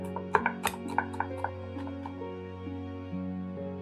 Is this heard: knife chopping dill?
yes